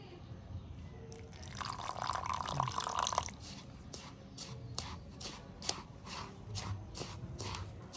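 Water is poured little by little into a bowl while dough is made for a sabudana dessert: a brief pouring splash, then soft, faint, irregular drips and handling noises close by, with no speech.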